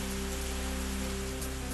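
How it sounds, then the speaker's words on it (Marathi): Heavy monsoon rain falls over the Vasai-Virar area as a steady, dense hiss. It plays faintly under a low constant hum and has no talk. "अधूनमधून जोरदार पाऊस."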